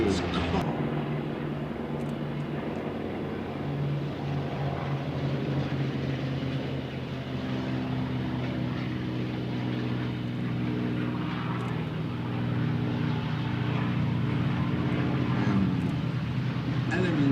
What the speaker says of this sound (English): lots of Spitfires taking off